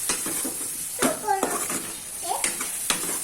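Tomatoes, boiled beans and peas are stirred in a cooking pot, with scraping spoon strokes and a few sharp metallic clinks against the pot over a faint sizzle, and a brief voice in the background.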